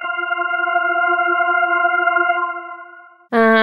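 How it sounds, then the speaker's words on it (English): A liquid additive organ synth patch in Logic Pro holds one bright, steady chord for about three seconds and fades out. A fresh, louder chord then starts abruptly, with no talking. "Or liquid additive organ, that sounds cool."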